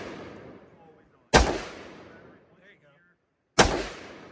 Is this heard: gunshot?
yes